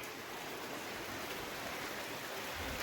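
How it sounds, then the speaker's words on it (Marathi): A summer rain shower on a festival day makes a steady, soft, even hiss that holds for the whole short stretch, faint and continuous with no voices. "भर उन्हाळ्यामध्ये पाऊस सुरू झालाय."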